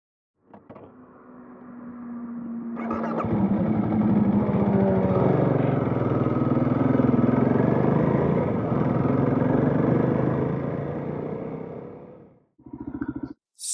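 Motorcycle riding along a road on the way to a petrol station, its wheel bouncing and shaking, with a steady engine drone that builds, holds loud and close for about nine seconds, then cuts off before a brief burst returns.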